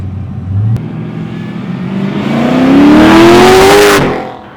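Mazda RX7 fitted with an LS3 V8 engine accelerating hard, revs climbing smoothly over several seconds to a loud, close roar, then cutting off sharply near the end.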